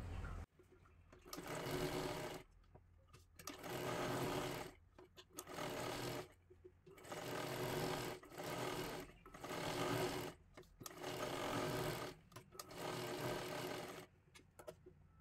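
A sewing machine stitching blouse sleeves runs in repeated bursts of steady mechanical whirring, each a second or two long, separated by brief pauses, close and clear.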